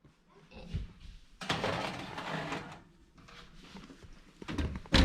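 Kitchen oven door being opened and shut while a tray of cookies goes in, a broad clattering rush of handling noise in the middle with a dull thump at the end, fairly close.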